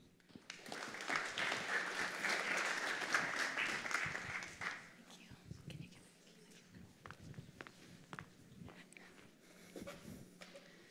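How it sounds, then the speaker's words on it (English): An audience applauds startup pitches at a tech summit, with loud sustained clapping for about four seconds that thins into scattered, fading claps. "Can we get one more round of applause for everyone?"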